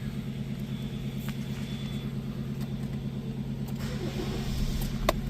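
A car engine idles steadily at close range after being started during an oil change, a constant low rumble with a few faint clicks and no voices.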